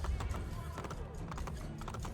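Hooves clip-clop steadily on a hard street at a brisk pace in the video game Assassin's Creed: Brotherhood, with a low background rumble and faint clattering.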